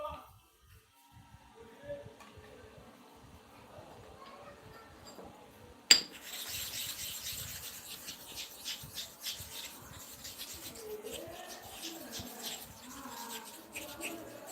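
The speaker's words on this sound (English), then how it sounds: "So we have to balance it very well to sharpen one side equally with the other side now" A one-sided cutting blade is sharpened on a stone with quiet, repeated scraping strokes after a sharp clink. A faint voice is partly audible beneath the scraping.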